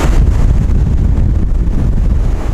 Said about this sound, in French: il y a quand même des belles vagues